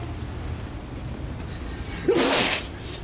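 A single sneeze bursts out sharply near the end, loud and brief against a quiet indoor background.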